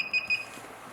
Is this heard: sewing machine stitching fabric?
no